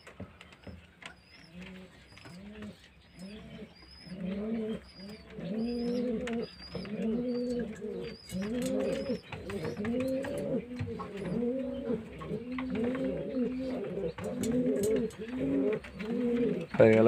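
A flock of pigeons coos in repeated, overlapping throaty calls, close and steady, with faint chirps above and light pattering as the birds are fed grain during the monsoon season.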